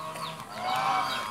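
A goose on a village farm in Mempawah, West Kalimantan, gives a drawn-out honk that swells in the middle of the clip, heard over steady outdoor ambience alongside other poultry.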